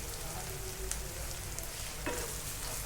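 Steamed, finely chopped vegetables sautéed in roasted tomato puree for pav bhaji make a quiet steady sizzle with a few light scraping and stirring knocks; no speech.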